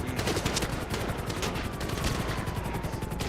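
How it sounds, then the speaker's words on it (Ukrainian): Sustained rapid gunfire from several weapons in GTA 5, dense overlapping bursts of shots filling the whole stretch at steady loudness. "Чого тепер вони максимально по мені стріляють"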